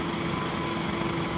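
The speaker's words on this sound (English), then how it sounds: "We rev the engine up." A racing motorcycle engine in the MotoGP 23 video game holds a steady, high buzzing drone on the starting grid before the race, close and continuous with no talking.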